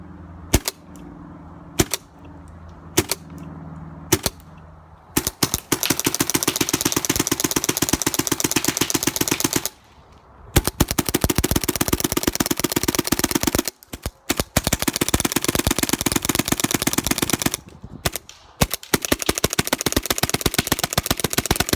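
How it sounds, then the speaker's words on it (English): A 2017 gloss black Shocktech SFL Autococker paintball marker firing, first a few single spaced shots, then long rapid strings of shots with brief pauses between bursts, loud and close. "quick shooting video and review of my 2017 gloss black Shocktech SFL Autococker."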